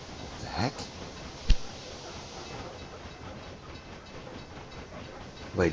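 Train running in the Railway Empire video game, a soft steady rolling rumble with a couple of sharp clacks, heard faintly without talk.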